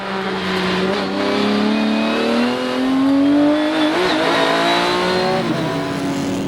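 A BMW M3 Silhouette race car laps the Assen circuit in a Supercar Challenge GT race, its engine droning loud and close with rising and falling pitch through gear changes, heard steadily from onboard.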